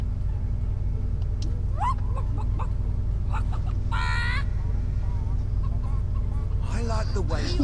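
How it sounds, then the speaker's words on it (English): Chickens cluck and squawk in the video game Fable 3, several short bird calls in bursts over a constant low game rumble, with a person talking at times. "And now the chickens will follow me."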